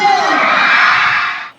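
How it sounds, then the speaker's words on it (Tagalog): Crowd of festival-goers in a sports complex cheering and screaming loudly, a dense sustained roar of high-pitched yells that holds steady before cutting off abruptly. "Napuno ng hiyawan at excitement ang Malabon Sports Complex"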